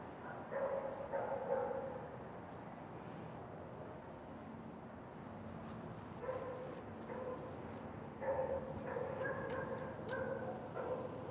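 Several dogs barking and whimpering at a distance, faint yips and whines rising in short bursts at the start and again near the end, with quieter gaps between.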